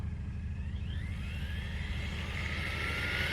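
A mini basher RC car accelerates at full throttle, its motor whining higher in a rising, steady drone over a dense low rumble, moderately loud and continuous with no talk.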